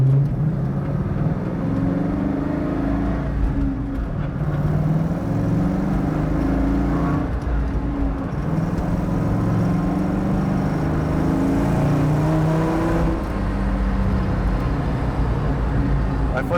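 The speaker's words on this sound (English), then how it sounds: "Okay, back on the gas pedal." A 1965 Mustang with a V10 engine accelerates with a loud, deep rumbling drone, its pitch climbing and shifting, heard from inside the car with a voice briefly present.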